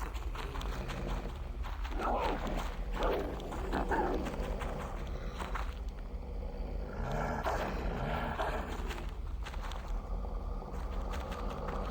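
Dogs rushing and snarling in a survival-horror game set in the Blair Witch woods, with busy overlapping patter like running paws and animal noises filling the whole stretch at a steady, loud level.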